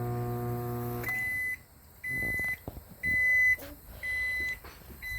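A Hamilton Beach microwave gives a run of short electronic beeps as its power level buttons are pressed, each tone clear and close, coming right after a low hum ends, with no talking.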